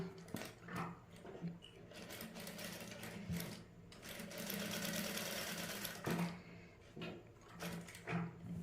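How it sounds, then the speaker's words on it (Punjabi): A sewing machine runs in bursts, stitching a new neckline design: short whirring runs broken by brief pauses, then a longer steady stretch, close and fairly loud with no talking. "ਹੁਣ ਇਧਰਲੀ ਸਲਾਈ ਲਗਾ ਲਾਂਗੇ ਆਪਾਂ"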